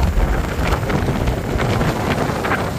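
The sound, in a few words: cold wind at foot of Mount Banahaw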